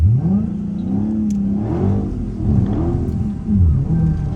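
A Dodge Hellcat's engine revs repeatedly while the car slides in snow, the throttle blipping on and off in loud, close surges of rising and falling pitch with a steady rumble underneath.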